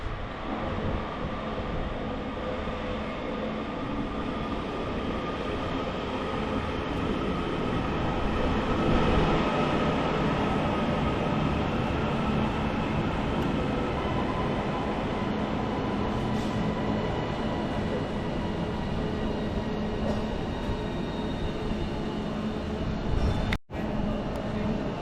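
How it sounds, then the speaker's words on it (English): A Northern Class 331 electric train pulls into Bolton station, a steady broad rumble and hiss of wheels and motors held close and fairly loud for the whole stretch, with no talk. "In comes 331 106 on the 11:22 Northern service to Blackpool North."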